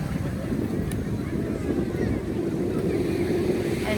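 Small ocean waves at a beach in Puerto Vallarta, a continuous low wash of surf mixed with wind rumble on the microphone, steady and fairly loud throughout.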